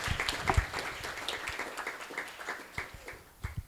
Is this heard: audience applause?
yes